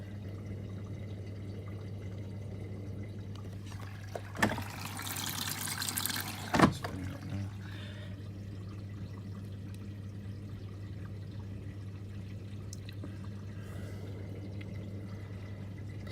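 A Samsung Quick Drive washing machine taking in water, a brief rushing burst of water lasting about three seconds over a constant low machine hum, with a soft clunk as it stops.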